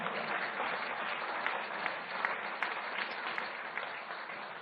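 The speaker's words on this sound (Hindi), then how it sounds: "भाई ताली बजानी तो जोर से बजाओ, धीरे से बजाओ।" Steady applause from a seated audience at a political speech about Delhi government preparations, dense and even throughout, moderately loud, with no voices standing out.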